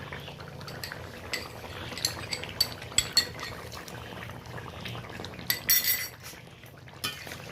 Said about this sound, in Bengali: এই বাটিটা ধুয়ে একটুখানি জল দিয়ে দেবো।